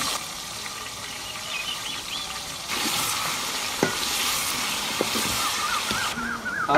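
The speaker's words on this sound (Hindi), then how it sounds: "चिकन को बहुत ही अच्छी तरह हमने फ्राई कर लिया है" Chicken fries in a pan with salt and garlic paste, sizzling loudly and continuously up close, while stirring adds a few sharp clanks and scrapes of the utensil against the pan partway through.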